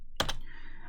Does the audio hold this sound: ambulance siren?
no